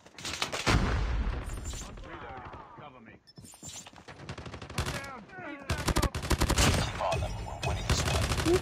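Short bursts of automatic rifle fire from an AGR 556 in a 10v10 Nuke first-person shooter match, rapid clustered shots repeating over several seconds with voices talking between them.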